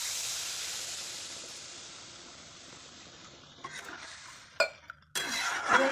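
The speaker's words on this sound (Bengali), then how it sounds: "এবার জলটা দিয়ে দেবো" Water goes into a hot pan of fried potatoes and spices for a fish curry, releasing a loud hiss of steam that fades, then a few clinks and a fresh burst of sizzling near the end.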